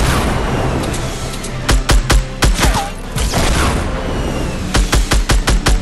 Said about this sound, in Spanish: Ojo que me está disparando